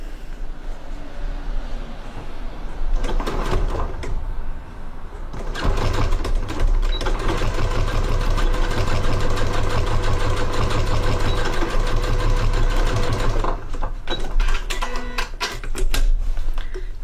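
An Elna 720 Pro flatbed sewing machine base-stitching a bag, its motor whirring in loud, fast, steady bursts with a brief stop and restart partway, no talking.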